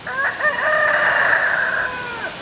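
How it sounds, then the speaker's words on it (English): A silkie rooster gives one full crow, close and loud, its rising and held call lasting about two seconds against a quiet background. "I think that's a silky rooster."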